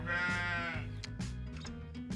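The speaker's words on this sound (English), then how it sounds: "there's a sheep down there." A sheep bleats once, a wavering drawn-out call, followed by softer rustling and shuffling nearby.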